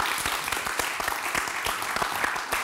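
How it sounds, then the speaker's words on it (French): An audience claps and applauds at a live show, a dense, continuous patter of many hands close by, steady for a couple of seconds with no voices over it. "On peut l'applaudir les autres."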